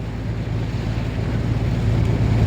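Heavy rain and floodwater in Saudi Arabia make a continuous, loud, broadband rushing wash with a deep rumble underneath. It stays steady throughout, with no voices.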